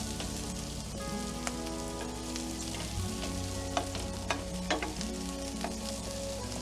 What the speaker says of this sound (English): all you're doing at this point is just warming the bacon through